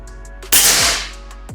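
A single sharp shot from a Predator 500cc tactical air rifle during a velocity test, a loud close crack with a short decaying tail, fired after a steady low hum.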